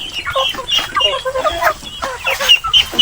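Chickens on a Philippine farm cluck and chatter continuously at close range, overlapping calls rising and falling in quick bursts, fairly loud throughout.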